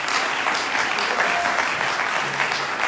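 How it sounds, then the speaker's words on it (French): A church congregation standing to applaud and acclaim the Lord, a steady dense clapping that fills the room with broadband patter throughout, close and sustained with no pauses. "Je demanderai de se lever, nous allons acclamer le Seigneur."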